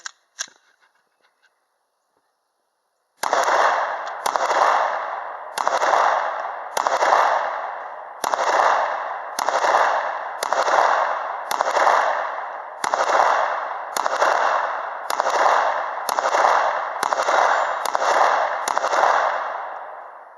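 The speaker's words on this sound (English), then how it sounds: "9mm out of the Glock 19." A Glock 19 pistol firing 9mm rounds at a shooting range, about fifteen sharp, loud shots in a steady rapid rhythm, each with a short ringing tail, after a few seconds of near silence.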